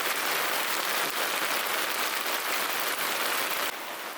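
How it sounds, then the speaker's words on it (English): Heavy rain pours down on a homestead in Portugal, a dense, steady hiss of drops on surfaces that stays loud and unbroken, easing slightly at the very end. "And when it rains, well, it really rains."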